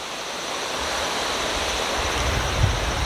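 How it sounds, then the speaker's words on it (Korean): Water rushes through a mountain valley stream at Yongso Valley in Gapyeong, a loud continuous roar of flowing water that swells slightly toward the end, with no talking. "요즘에 유튜브에 많이 나오는 계곡인데 용소 계곡에 나왔습니다"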